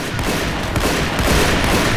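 Dense, continuous gunfire in the Blackshot shooter game, with rapid overlapping shots and booms sustained loudly throughout, sniper rifle fire mixed into a busy firefight.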